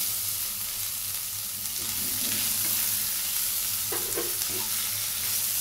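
Chopped onion frying in a pan until browned, a loud continuous hiss of sizzling oil with a few faint stirring scrapes near the end.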